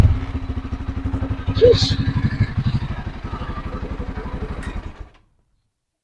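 A Motorstar Xplorer 250 V2 motorcycle idles with its silencer fitted, a steady close-up low thumping putter that runs for about five seconds before the engine cuts off abruptly. A brief exclamation is heard over it.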